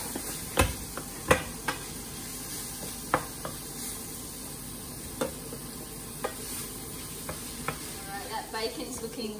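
Bacon frying in a pan for dairy-free carbonara, a soft continuous sizzle punctuated by sharp clicks and taps of a utensil stirring against the pan, close and alone without talk.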